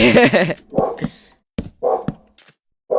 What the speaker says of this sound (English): I didn't know my dog is going ballistic.